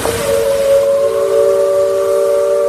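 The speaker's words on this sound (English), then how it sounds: "That is the whistle of the Liberty Bell." The steam whistle of the Liberty Bell steamboat on the Rivers of America at a Disney park blows one loud, steady chord-like blast with a sharp onset and a rushing hiss beneath.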